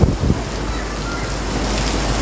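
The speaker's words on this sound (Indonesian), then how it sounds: "Hujan pun dah sampai dah" Steady broadband roar of heavy rain and strong gusting wind in Penang buffeting the microphone, with a few faint voices near the start.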